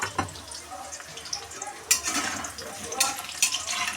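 Chicken pieces frying in a pan for chilli chicken, a soft steady sizzle under intermittent clinks and scrapes of a utensil against the pan, close by and fairly quiet.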